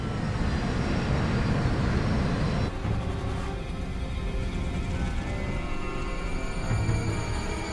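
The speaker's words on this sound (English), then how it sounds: "Captain Lutz begins slowing the jet and puts it into a steep descent." A jet airliner on approach, slowing as it descends steeply: a steady, broad engine and airflow roar that drops slightly in level partway through, continuous with no voices.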